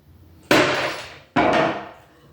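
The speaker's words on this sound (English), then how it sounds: "First thing I do is smack it with a hammer." Two sharp metallic hammer strikes on a rusty drawer handle, close and loud, each ringing out briefly before fading, about a second apart.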